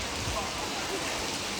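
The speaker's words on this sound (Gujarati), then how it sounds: "અમારે ત્યાં ફૂલ વરસાદ છે" Heavy monsoon rain pours down in a dense, steady hiss with no break, filling the short moment.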